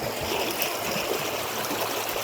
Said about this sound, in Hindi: तो यही वो कालू वाटरफॉल का स्टार्टिंग पॉइंट है गाइस